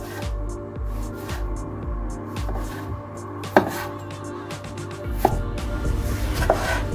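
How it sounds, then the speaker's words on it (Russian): Knife slicing tomatoes into wedges on a cutting board in a steady rhythm of soft thuds, with a few sharper knocks partway through; no talking. "У меня были томаты, нарезаю их на дольки."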